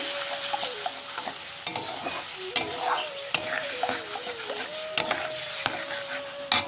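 Tamarind gets stirred slowly in a pan, with rhythmic scraping and clinking of a spoon against metal over a low sizzle, plus several sharp knocks.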